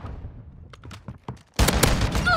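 Call of Duty MWII gunfire: a string of short, sharp distant shots crackles first, then a loud, dense burst of close fire erupts and keeps going.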